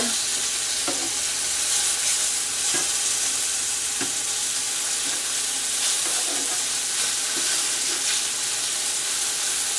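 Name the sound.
chicken frying in a pan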